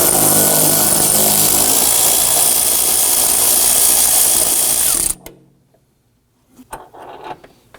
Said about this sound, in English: we're going to use our socket and extension to go ahead and reach in there, loosen, and remove these